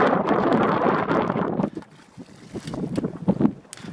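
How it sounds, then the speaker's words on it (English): Strong wind buffets the microphone outdoors at a lake, loud gusty rumbling at first that drops to quieter, uneven bursts. "it's getting windy, dude."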